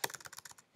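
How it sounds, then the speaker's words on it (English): Brisk, close keystrokes on a computer keyboard while entering Java code, about a dozen quick clicks in an uneven rhythm, faint and without talk. "I'm going to type in plus stars"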